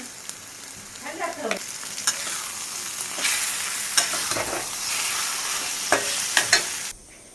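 Ghee going into a bottle gourd and prawn curry in a hot pan, a continuous close sizzle with repeated scraping stirs, ending abruptly near the end, with no talking.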